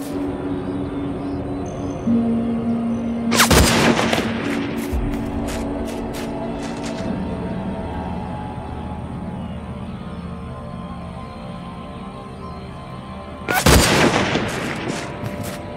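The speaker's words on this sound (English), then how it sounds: "Welcome to getting shot from who knows where" Gunfire in the first-person shooter game Hunted: two sharp, loud broadband shots stand out, one early and one near the end, with fainter distant pops between them over a steady hum of game ambience.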